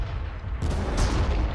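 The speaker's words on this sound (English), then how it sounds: "Drop some artillery on them." Artillery shells land in a strategy video game, producing a dense, rumbling barrage of low booming explosions that continues without pause, loud and close.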